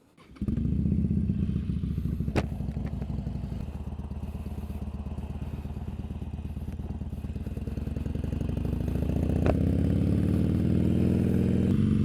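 Motorcycle engine droning steadily during a night ride, close and loud, starting up after a brief quiet moment and gradually rising in pitch as it speeds up.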